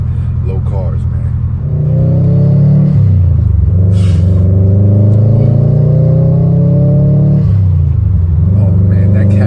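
A 2018 Subaru WRX STI with a Cobb exhaust rumbles and revs loudly from close by, the engine note rising and falling through a couple of pulls.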